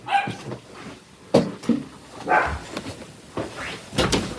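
Scattered short dog yips and barks mixed with knocks and thuds, like a cupboard or door banging, in an irregular sequence nearby.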